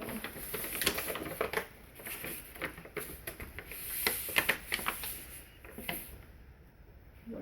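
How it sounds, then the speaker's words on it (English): Brown paper bag being folded and creased by hand to make a book cover, a run of crisp crinkles, taps and rustles in irregular bursts, close and fairly clear with no talk. "Fold the bottom length of the bag upwards about 2 or 3 inches."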